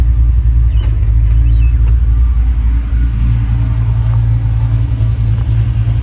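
Car with a newly installed Tremec TKX transmission running in reverse gear, giving a loud, steady low engine drone with a faint whine and no speech.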